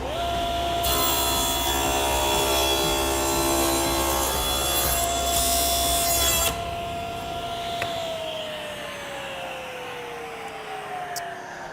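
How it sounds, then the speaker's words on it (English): Power saw trimming a blade width off a wooden door piece, a loud sustained whine with a cutting rasp that drops away after several seconds as the blade spins down, close and alone. "Slide that in 1/8 of an inch and cut off a blade width."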